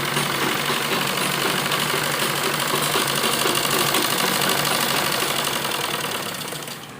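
A sewing machine runs steadily throughout, stitching the seam of a semi-Patiala salwar with a fast, even mechanical whirr that stays loud and close, easing off slightly in the final second.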